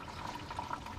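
Coolant draining from a 1984 Toyota 22R engine during a water pump replacement, a faint, steady trickle and splash of liquid running through the whole moment with no talk.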